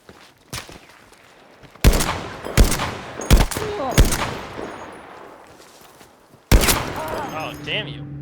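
Gunfire in a shooter video game rings out loudly as several sharp reverberant shots spaced a second or so apart, then a final blast, with players talking over the action.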